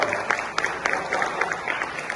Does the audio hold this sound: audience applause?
yes